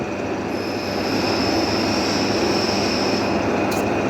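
Steady, loud metal-cutting drone of deep drilling, over 750 mm, on a lathe, continuous and close with a harsh grinding roar and a faint high whine throughout.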